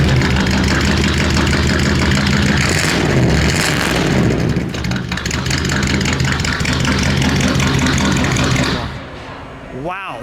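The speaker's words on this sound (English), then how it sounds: "give it one, let it idle for a second, give it one rev and we'll shut it down" A 350 V8 in a 1941 Ford Custom runs loud and close, a rough rumbling idle with rev swells throughout, before the engine cuts out near the end.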